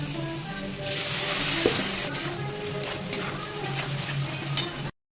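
Fish masala with Kashmiri chili powder being stirred in a frying pan, a steady close sizzle and hiss with occasional scraping clicks of the spoon, continuing until an abrupt cutoff.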